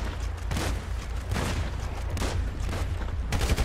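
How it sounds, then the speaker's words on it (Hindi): Several gunshots in GTA 5 crack out amid a busy police shootout, scattered heavy booms and bursts over a constant low rumble, each shot fairly loud and close with short gaps between them. "अबे तेरे को इतनी गोलियाँ मारी"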